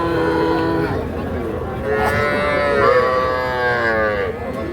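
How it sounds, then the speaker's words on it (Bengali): Young Sahiwal bull calves at a livestock market low and moo loudly and close by, several drawn-out overlapping calls in a row, with a faint murmur of voices in the background. "এগুলো শাহিওয়াল জাতের ষাঁড় বাচ্চা।"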